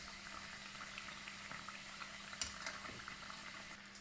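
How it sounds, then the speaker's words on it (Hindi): Khoya-filled chandrakala sweets frying in ghee or oil, giving a steady, close bubbling hiss that runs without a break and with no voices. "अब देखिए उधर फ्राई हो रही चंद्रकला"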